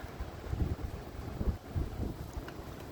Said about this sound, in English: Yeah, it's that windy.